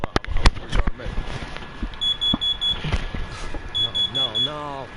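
A smoke detector alarm chirps in two short rows of high, thin beeps, somewhat quiet under people talking and clattering noises.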